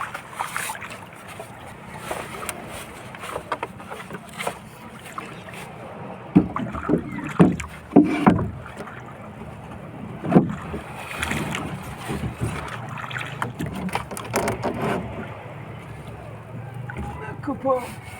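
A small fishing boat heads out to sea under sail, with wind buffeting the microphone, water lapping and wooden knocks from the hull and rigging, and someone talking over it.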